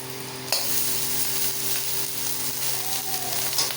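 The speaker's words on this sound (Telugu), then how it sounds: "నెక్స్ట్ వెజిటేబుల్స్ అన్నీ బాగా ఫ్రై అయ్యాక రైస్ వేస్తున్నాను" Vegetables and rice stir-frying together in a pan with ginger-garlic paste for vegetable fried rice, a steady bright sizzle with a utensil scraping and tossing now and then, close and alone.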